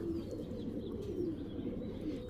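Racing pigeons kept in a loft, cooing softly in low rolling calls that continue steadily, faint and somewhat distant, with no voices over them.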